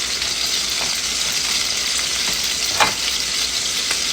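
Cheddar cheese melts and thickens in a pan over a steady, hissing sizzle, with faint scrapes of stirring and one brief clink.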